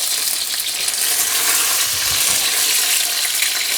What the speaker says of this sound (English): You can always tell when a little bit of liquid comes out of these egg rolls. That's when the splatter begins.